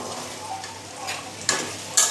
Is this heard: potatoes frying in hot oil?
yes